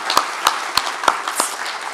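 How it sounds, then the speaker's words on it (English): Sparse audience applause for sponsors at a 2019 panel event: five distinct hand claps spaced evenly, crisp and fairly close, with quiet between them. "Let's give all of our sponsors, and especially Daryl, a great round of applause."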